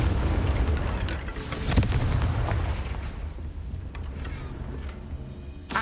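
Confringo explosion spell in a Harry Potter video game: a few deep booms and sharp blasts over a rumbling game soundscape, with one strong burst near the middle.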